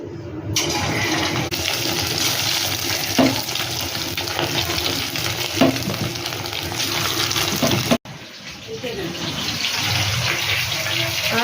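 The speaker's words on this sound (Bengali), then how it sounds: "এবার চিকেনগুলোকে এক এক করে ভেজে নেব।" Marinated chicken pieces frying in hot oil, a steady broadband sizzle running throughout with a brief drop near the end, fairly loud and close with no talk.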